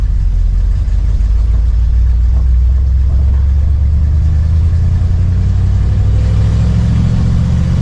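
A 1982 Dodge Ramcharger W150 pulling away from a standstill in second gear, its engine droning in a loud, steady low rumble that builds gradually over several seconds, with no voices.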